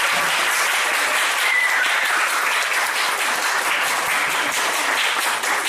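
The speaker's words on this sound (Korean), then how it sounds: "모든 부모님들께 감사의 박수 한번" Sustained applause from an audience at a children's choir concert, dense and steady clapping filling the whole stretch at a loud, even level.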